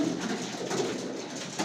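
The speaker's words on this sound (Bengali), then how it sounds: "দেখছেন 30টার মতো কবুতর। কবুতরটি সবগুলো সাদা" About thirty white pigeons coo softly together, a low, murmuring burble heard close by.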